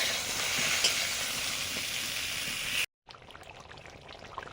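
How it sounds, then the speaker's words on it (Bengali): Pointed gourds (potol) fry in hot oil, a loud, even sizzle that cuts off abruptly, then returns fainter with light clinks and crackles. "পটল চিংড়ির জন্য আর পটল ভাজার জন্য পটলগুলো একসঙ্গেই ভাজছি।"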